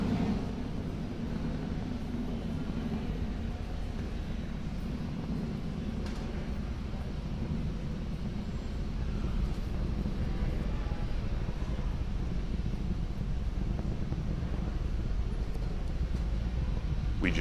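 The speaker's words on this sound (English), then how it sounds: "That Falcon 9 rocket is now throttling back up to full speed as it ascends through the atmosphere." Falcon 9 rocket engines throttle up in Kerbal Space Program, a steady, dense low roar that holds continuously with little change throughout.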